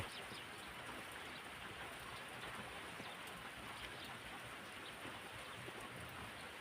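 Steady rain pours down in cold weather, a dense even hiss of drops on surfaces with no break, fairly quiet and continuous throughout.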